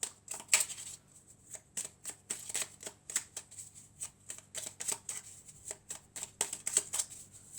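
A deck of oracle cards is shuffled during a card reading, with repeated crisp riffling and flicking bursts in an irregular rhythm, close up and alone with no talking.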